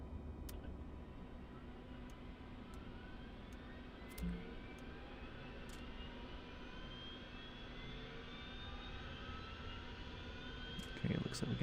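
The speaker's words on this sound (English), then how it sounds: "it looks like we got engine 1 starting to do its thing" Helicopter turbine engine starting up in Microsoft Flight Simulator 2024, a steady whine gradually rising in pitch over a low rumble, with a few faint clicks and a brief thump near the end.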